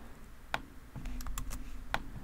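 Quiet sharp clicks from a computer mouse while tracing stripe outlines with the Photoshop pen tool, a few isolated taps spaced out over faint background hum, no speech.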